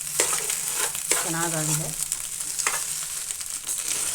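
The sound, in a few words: egg bhaji being stir-fried in a pan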